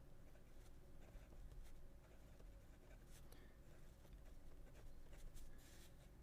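A medium nib fountain pen scratches across very toothy paper, a faint, close, continuous rasp with small irregular strokes, no talking.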